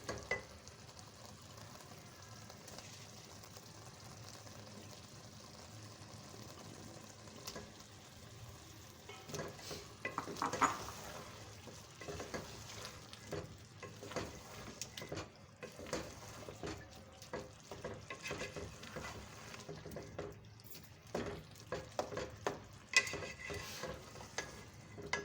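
Potatoes tumble into a frying pan with fenugreek leaves and get stirred, producing soft, irregular scraping and rustling over a quiet, continuous sizzle throughout.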